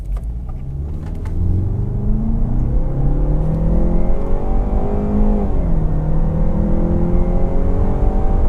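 A Jaguar E-PACE P250 AWD with the entry-level engine accelerates hard from a standstill, heard from inside the cabin. The engine drone climbs steadily in pitch, dips briefly at a gear change, then rises again, loud and continuous.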